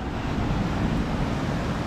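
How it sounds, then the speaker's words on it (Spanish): Ocean waves at La Guaira, Venezuela, a continuous loud wash of surf mixed with wind noise buffeting the microphone, steady with no distinct breaks. "Muchachos, mira cómo se ven las olas."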